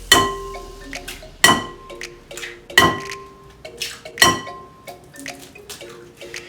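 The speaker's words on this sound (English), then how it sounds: "we're going to whisk together 4 eggs into a large bowl" Four eggs are whisked in a large bowl, the utensil striking the bowl in a brisk, irregular rhythm of sharp clinks and rings, close and clear with no talking.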